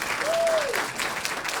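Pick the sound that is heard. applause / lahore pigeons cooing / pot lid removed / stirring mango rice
applause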